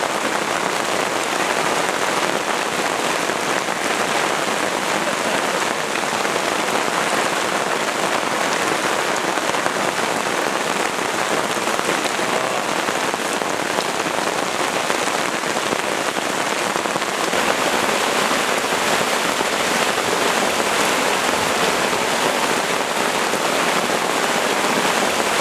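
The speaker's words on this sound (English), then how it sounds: "It got cloudy and now it's pouring." Heavy rain pours steadily over the Amazon jungle, a dense, continuous hiss of drops on leaves and surfaces that stays loud and unbroken throughout.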